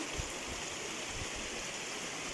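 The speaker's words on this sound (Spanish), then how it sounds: "por acá corre el agua" Water rushes steadily along the Ramos River, a continuous loud, even flowing hiss with no pauses or voices.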